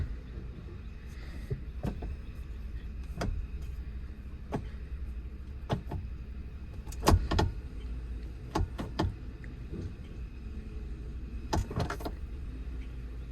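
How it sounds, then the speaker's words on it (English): A car engine idles with a steady low rumble while its automatic transmission, which has a shudder and has been treated with Lube Gard Instant Shudder Fixx, is shifted through the gears, with sharp intermittent clicks and clunks over the hum. "I'll fire up. And what I'll probably do now is just cycle through some of the gears to get that transmission"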